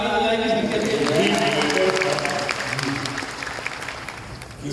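A large audience applauds steadily at a public event with a health minister as chief guest; the dense clapping swells early and then slowly fades, with a voice talking over the start.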